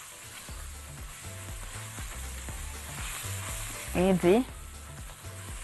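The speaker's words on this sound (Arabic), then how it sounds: "التشويحه دي بتخلي البهارات تضيع الترابه اللي فيها" Spices sautéing in oil in a pot while preparing chicken fatteh, a steady close sizzle with clinking stirs; a brief spoken question and a short vocal sound rise over it near the end.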